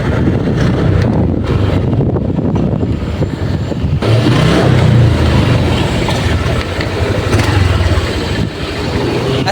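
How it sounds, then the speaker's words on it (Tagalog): A Honda Click 125 V2 scooter with a throttle position sensor fault (error 8-1) runs with its throttle held wide open, a loud continuous engine roar mixed with heavy wind buffeting on the microphone. "Obserbahan mo sa video kapag sinasagad ang throttle ay nawawala yung lakas or hatak ng motor."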